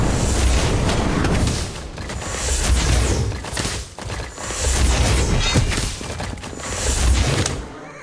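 The Incendio spell fires in the video game Harry Potter Magic Awakened, a loud, continuous roar of fiery blasts and crackling bursts that surges and dips and fills the whole span.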